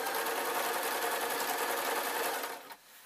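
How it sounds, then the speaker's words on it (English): A cheap sewing machine stitches a work dress in one continuous fast mechanical whir, close and steady, then stops abruptly near the end. "This is really nice to sew. You know, I'm using a very cheap machine."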